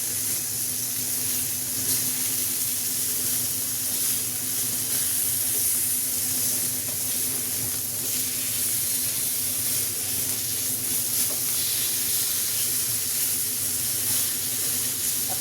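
Tandoori chicken cooks on a grill pan over high heat after being flipped. A continuous close hiss and sizzle holds at an even level throughout, with no voices.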